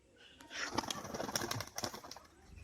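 Young pigeons, hens kept for sale in Murshidabad, coo and stir nearby in several soft bursts, with faint rustling and no talk.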